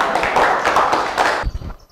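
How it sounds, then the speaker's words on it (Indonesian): A classroom of students applauds a classmate named Ayu, a dense burst of clapping lasting over a second that breaks off into a few scattered thumps and taps. "Oke, tepuk tangan untuk Ayu."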